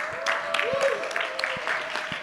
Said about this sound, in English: Can we give Pear a round of applause to invite her?